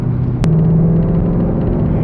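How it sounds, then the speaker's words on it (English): A Ford Mustang GT Premium with a manual transmission and a naturally aspirated V8, heard as a loud, deep, sustained exhaust rumble with a steady engine drone, close up. "Gotta love that naturally aspirated V8. Just let that thing rev out."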